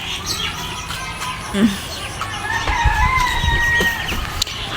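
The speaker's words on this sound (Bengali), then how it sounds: "আমার মুরগি কত দূর আইছে" Chickens cluck and a rooster crows nearby amid scattered bird chirps, with a few low thumps and faint voices in the background.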